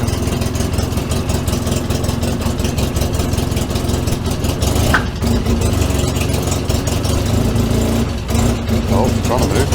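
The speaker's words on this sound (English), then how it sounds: "Sounds awful, I presume that's an exhaust blowing, I reckon." A Polaris 6x6 off-road vehicle engine runs rough with a blowing exhaust, a loud, continuous uneven chugging and rasping pulse that stays close and steady throughout, with a couple of brief higher noises partway through.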